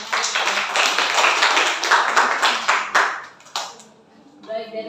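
Applause from a classroom audience after a student presentation, dense clapping sustained for about three seconds, then tapering off as a voice starts speaking.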